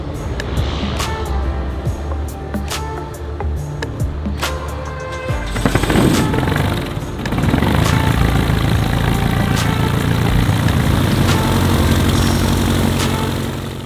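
A small airplane's engine warms up at an airport, loud and steady throughout, with sharp clattering bursts in the first seconds before the running swells into a fuller, continuous roar.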